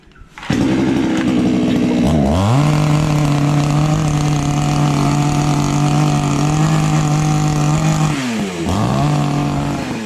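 A chainsaw engine roars steadily at close range, dipping briefly twice as the throttle drops and then revving back up.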